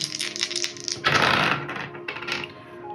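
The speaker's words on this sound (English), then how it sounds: "Okay, so we're rolling 3 dice against our archer." Three dice are rolled for a board game, a burst of close, sharp clattering and rattling as they tumble and settle, followed by a few lighter clicks.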